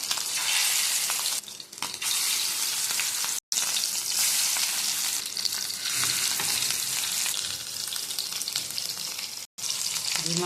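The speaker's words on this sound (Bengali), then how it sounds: "প্রথমে আমি ডিমওয়ালা মাছ ভাজবো।" Hilsa fish with roe frying in hot mustard oil, a loud dense sizzle that runs almost continuously for ten seconds. It is close and steady, broken by two brief silent cuts.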